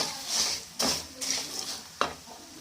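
Roasted gram, garlic and curry leaves being stirred and fried for karapori, a quiet sizzle broken by a few sharp scrapes and taps of a spoon against the pan.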